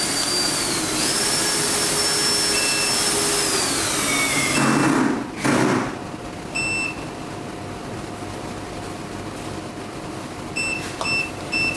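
A Famax FM35-WiFi roller blind motor whines as it runs, rising and then falling before it stops with a thump. Short, bright electronic beeps follow in small clusters, close and clear.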